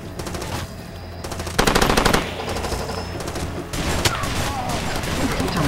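Sustained machine gun fire in the video game Far Cry 2: dense rapid bursts rattling continuously, loud and close, with a louder volley partway through and faint voices mixed underneath.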